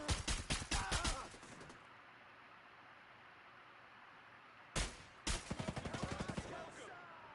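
Rapid machine-gun fire in a PS5 military shooter, Force Recon, comes in two sharp, loud bursts of quick repeated shots with a near-silent gap between them.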